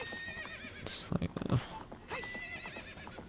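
A horse in Zelda: Ocarina of Time on the Nintendo 64 gives one loud whinny, followed by a few clip-clopping hoof sounds and soft game noise.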